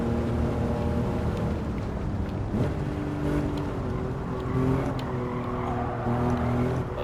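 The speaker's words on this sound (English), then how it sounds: "204 brake horsepower out of a bleeding 3 litre V6, and it understeers like a pig because it's front wheel drive" A front-wheel-drive car with a 3-litre V6 making 204 bhp, driven on a racing circuit in Gran Turismo 7, gives a steady, droning engine note that holds at the same loud level throughout, with slight pitch shifts as it revs.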